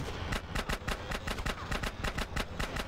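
Rapid bursts of gunfire from Grand Theft Auto: San Andreas during a train chase, sharp repeated shots in an uneven rhythm, loud and close throughout.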